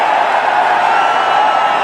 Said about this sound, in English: Have a look at the crowd.